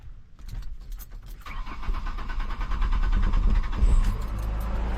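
A 2006 Ford Ranger cranks and fires up after a fuel pump replacement, a short starter whir followed by the engine catching and settling into a steady, moderately loud idle.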